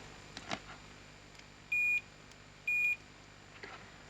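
Two short, clean electronic beeps from a multimeter set to continuity while testing alligator clips, each lasting about a quarter second and a second apart, in a quiet room with faint clicks.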